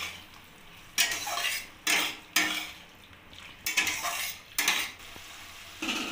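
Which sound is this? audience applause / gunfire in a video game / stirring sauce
stirring sauce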